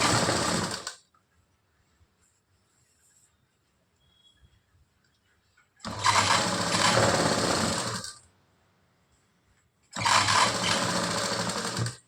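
A sewing machine runs in three bursts while double stitching the sleeves of a blouse, loud and close, a steady whirring rattle for a second or two at a time with silent gaps between.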